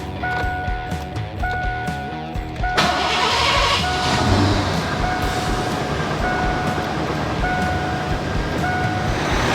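A Ford Crown Victoria engine cranks briefly and catches, then runs with a steady loud rumble, accompanied by a repeating electronic chime tone throughout.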